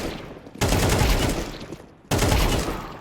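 Counter-Strike 2 gunfire in two loud bursts, the first starting about half a second in and the second near two seconds, each a dense, sustained rattle of rapid shots with no talking.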